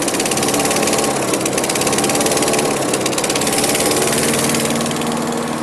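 An engine runs steadily and loudly at close range with a buzzing, lawnmower-like drone that holds constant throughout, with no voices.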